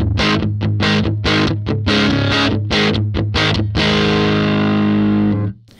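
Electric guitar through a Fender Bassman amp model on an Axe FX III, cranked fully, heavily driven choppy strums followed by a long sustained chord ringing out and cut off.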